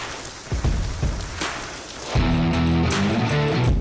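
Steady rain falls on a surface at a car meet with a Stingray racing car and a 1964 Chevy truck, a broadband wash that turns heavier and closer partway through, with low rumbling underneath.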